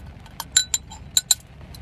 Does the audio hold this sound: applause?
no